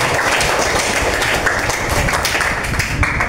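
A classroom full of students claps loudly for a classmate, a dense, steady patter of many hands that carries on evenly from start to finish.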